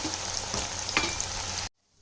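Onions frying in oil until golden brown for chicken biryani, a dense close sizzle with a few stirring scrapes, cutting off abruptly near the end.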